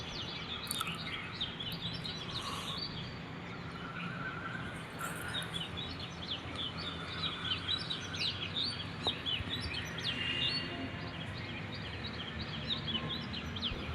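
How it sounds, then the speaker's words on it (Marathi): Many birds chirping and calling at sunrise over farm fields, a lively scattered chorus of tweets at varied distances, mostly faint and distant, with no talking. "तर पुढं तुम्ही पक्ष्यांचा आवाज ऐका."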